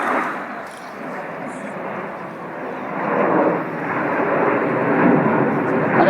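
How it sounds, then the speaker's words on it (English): A Red Arrows jet pulls up into a loop at about 400 mph during the Waddington International Airshow, a sustained loud engine roar that swells and rolls on, with a commentator's voice over it. "The jet's pulling up at 4G at 400 miles an hour."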